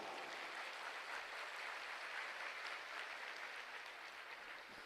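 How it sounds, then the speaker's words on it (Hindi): A large crowd at a religious gathering claps loudly and continuously, a dense even wash of applause sustained throughout. "एक बार उसके लिए बहुत जोर से ताली बजाओ।"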